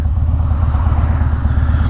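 Harley-Davidson Dyna motorcycle engine running while riding, a loud, steady low rumble with dense pulsing throb and broadband wind noise, close and continuous throughout with no talk.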